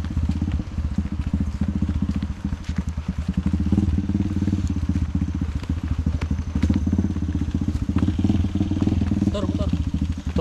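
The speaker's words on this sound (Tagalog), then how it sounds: "Motor." A motorcycle engine putters with a steady, rough low rumble, fairly close, at a rural spot in Rodriguez, Rizal, with people talking in the background.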